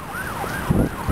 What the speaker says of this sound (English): Hear the typical siren